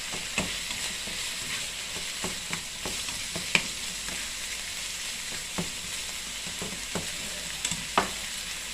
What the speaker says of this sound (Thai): คนไปใส่กันเลยกับกระเทียมพี่นองมันหอมใส่กันเลยเด้อ